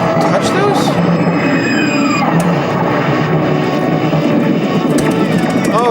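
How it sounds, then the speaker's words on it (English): A loud, continuous engine roar and whine from an Apache helicopter in the 1988 Taito Superman arcade game, dense and unbroken for the whole stretch, with no talking. "Oh, surprise! The Apache helicopter."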